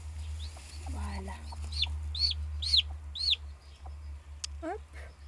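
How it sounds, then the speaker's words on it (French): A newly hatched grey chick peeps in a rapid series of high, clear chirps, four or five close together, over a steady low hum and some faint clucking from nearby fowl. "Hop, petit poussin qui vient juste de naître"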